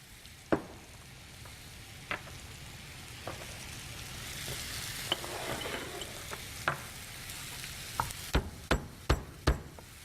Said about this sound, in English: I'm just going to let that onion and butter saute for a little bit.